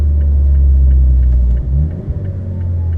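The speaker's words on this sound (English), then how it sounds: "Brake, left signal, RPM 2000, downshifting to 2" Heavy haul truck engine with a deep, loud low rumble that dips and shifts near the middle as it downshifts, then settles back into a steady drone.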